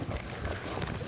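Horse hooves clip-clop quickly in an arena during a riding demonstration as the horse moves off and speeds up, a brief, steady run of muffled hoofbeats with no talking.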